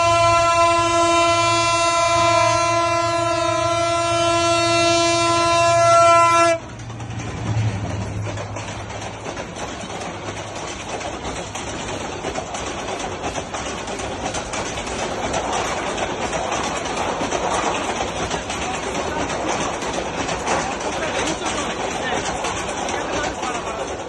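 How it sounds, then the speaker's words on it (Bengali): A train at a Bangladeshi railway crossing sounds a long, loud horn with steady harmonic tones for several seconds, then rumbles and rattles past close by, the broadband clatter continuing to the end with people talking over it. "এই যে দেখেন ট্রেনটা আসতেছে"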